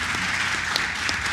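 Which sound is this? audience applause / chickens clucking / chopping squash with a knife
audience applause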